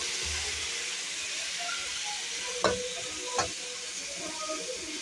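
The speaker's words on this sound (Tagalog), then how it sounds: "Yan guys, nilagay ko na yung gulay" Vegetables for pakbet sautéing in a hot pan with a steady close sizzle, broken by two sharp utensil clacks near the middle.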